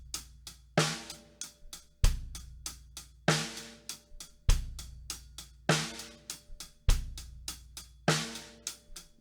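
A drum kit plays a steady groove with bass drum on beats one and three and snare on two and four, under continuous hi-hat or cymbal strokes, loud and close with no talking.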